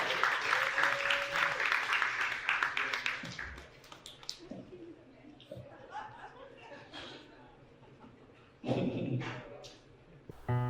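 A live audience on stage claps for a speaker, a loud burst of applause with laughter at the start that fades into scattered sounds and talk, followed by a second brief swell of clapping near the end.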